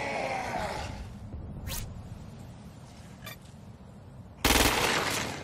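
Gunfire in the video game Crackdown 2, a few sharp shots over a low rumbling background, with a louder sustained burst near the end.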